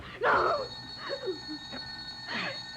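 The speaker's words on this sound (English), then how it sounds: "that's the phone" A telephone bell rings continuously in an old-time radio detective drama, a steady ringing that runs under a man's brief spoken word and other voices nearby.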